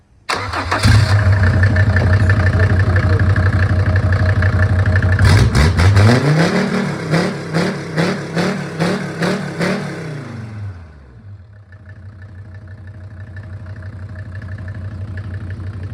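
A SsangYong OM662 2.9-litre diesel engine cranks and catches without throttle, idles with a rough clatter, then revs up and down in a string of rising and falling bursts before settling back to idle.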